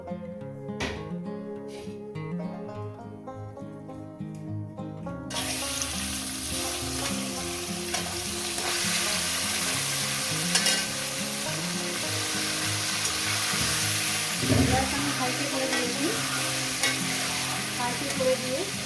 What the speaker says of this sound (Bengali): আমি চিকেনগুলোকে হাই হিটে ভেজে নেব